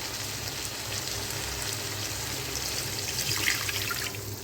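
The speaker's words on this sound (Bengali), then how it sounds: "আমি জল দিয়ে দেব।" Hot water is poured into a pan of simmering Assam-style aar fish curry, making a steady, moderate splashing wash that swells slightly toward the end.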